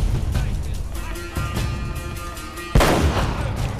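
Gunfire in Uncharted: Drake's Fortune on PS4 pops in several sharp shots over a constant background rumble, with the loudest blast near the end.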